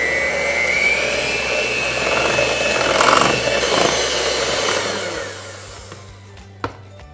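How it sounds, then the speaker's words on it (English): Cookie dough ingredients with an egg yolk whirred in an electric mixer, a loud steady motor drone with churning texture that winds down and stops, followed by a single sharp clack. "we're going to really give this a good mix"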